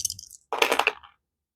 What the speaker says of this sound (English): I think in the moment I'm going to re-roll these 3 dice,